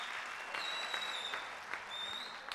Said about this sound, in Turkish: Sizlerden büyük bir alkış rica ediyorum.